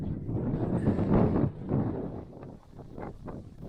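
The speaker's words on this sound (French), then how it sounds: "Le vent, ça souffle" Wind buffets the microphone outdoors in gusty, uneven surges, a low rumbling roar that swells and fades over a few seconds, with no speech.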